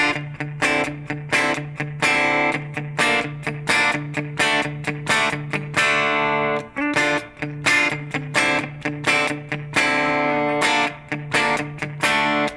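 A distorted electric guitar plays a repeating riff of two-note chords, loud and close, with short rhythmic stabs and sustained notes, no talking.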